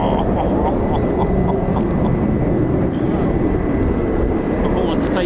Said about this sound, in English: Performance takeoff.